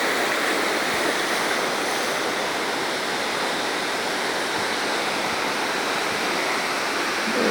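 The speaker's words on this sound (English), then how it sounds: "we're see these rapids that come right down underneath the road here" River rapids rush down beneath a road, a loud, steady broadband roar of churning water close by with no break and no voices.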